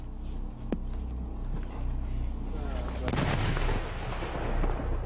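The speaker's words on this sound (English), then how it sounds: "So this big gun that's firing now, it's not a cannon, it's a recoilless rifle." A recoilless rifle fires during a 2008 military operation in Bajaur, with several sharp loud blasts and rolling echoes over background noise.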